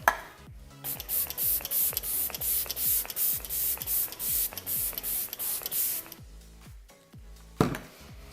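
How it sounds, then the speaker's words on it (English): Rapid bursts of fine Maybelline Lasting Fix setting spray hiss out in a steady rhythm of short pumps, close up, then stop, followed by a soft click. "We are going to set this look with the Lasting Fix Spray by Maybelline"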